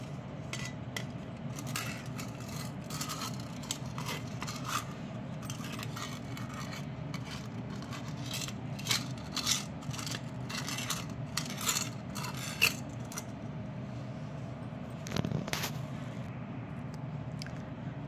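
Brass and copper vessels are scrubbed with a warm cleaning paste, giving soft repeated metallic scraping and clinks at close range, fairly quiet and without talk.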